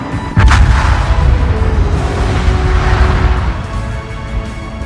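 Warship guns fire in the naval combat game Repulse, a sharp loud blast near the start followed by a long rumbling decay and low mechanical drone, no voices.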